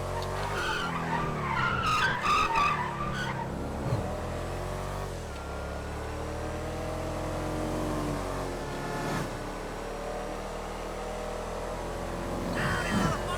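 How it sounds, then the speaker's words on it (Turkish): A 2019 Audi RS4 Avant drifting in GTA 5, with continuous screeching tire squeal over a steady revving engine, sliding and loud throughout. "Yalnız arabayla iyi drift yapılıyor."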